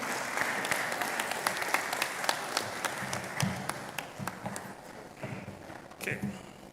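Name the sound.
audience applause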